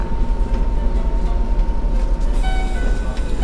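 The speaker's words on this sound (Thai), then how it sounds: "รถไฟออกแล้วจอดจอดเร็วแล้วก็ออกเร็วมาก" An Enoden electric train pulls away from a small station in Kamakura, Japan, with a loud, steady rolling rumble and rail noise up close, and a faint rising motor whine near the end.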